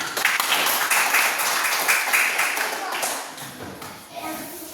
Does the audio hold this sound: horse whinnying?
no